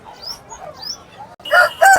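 A black rooster at a busy weekly village market in Gokavaram crows twice in loud bursts near the end, after quieter background bird calls and crowd murmur.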